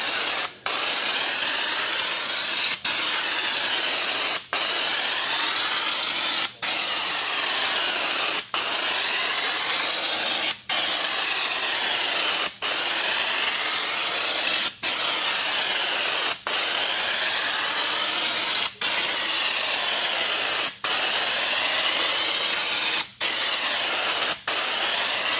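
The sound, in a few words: spraying Raptor bed liner coating with a spray gun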